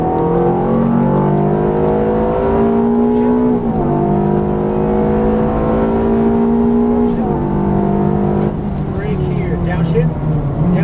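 A Ferrari F430 F1 pulls hard at full throttle on a Las Vegas track, loud close engine rising steadily in pitch through gears with quick F1 paddle shifts, a driving instructor talking over it.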